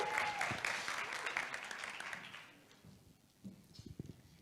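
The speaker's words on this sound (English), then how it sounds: "Can we please give her a big round of applause?" Audience applause at an evening networking event for the cultural and creative industries, a dense clapping that fades out after about two and a half seconds, followed by a few scattered claps and shuffling noises.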